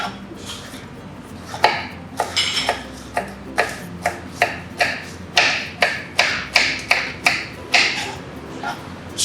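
Red and yellow peppers being chopped with a knife on a board at home, a steady run of crisp, fairly close taps, quickening through the middle, with no talk.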